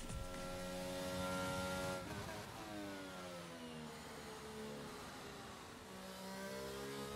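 A racing car engine on a hotlap of the Hungaroring in a video game, revving hard and steadily through rising and falling gear pitches, loud and close throughout.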